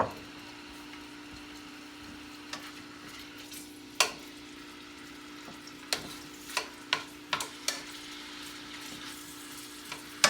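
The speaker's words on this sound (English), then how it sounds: "You'll hear a beginning of a sizzle." Sausage sizzles in hot oil in a pan during a cooking class, a steady quiet frying hiss broken by a series of sharp pops and ticks, with no talk.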